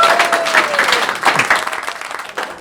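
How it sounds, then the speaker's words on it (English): An audience at a comedy joke-off show breaks into loud, sustained applause, a dense wash of clapping with a voice briefly cutting through. "big round of applause"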